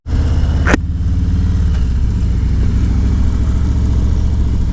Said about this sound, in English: a lot of traffic out